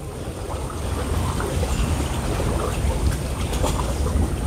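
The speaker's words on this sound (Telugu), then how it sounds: "ఈ యమహా ఇంజిన్ ఇది" A Yamaha engine drives a boat across the Alleppey backwaters, giving a steady, loud broadband drone mixed with water and wind rush, unbroken and without talk.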